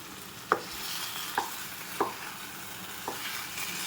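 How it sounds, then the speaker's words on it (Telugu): Chicken pieces fry in green dhaba-style masala on a low flame with a constant sizzle, punctuated by four spaced scrapes of a spoon against the pan. "బాగా వేగుతున్నాయి చికెన్ పీసెస్ కూడా మసాలా అంతా కూడా బాగా వేగింది"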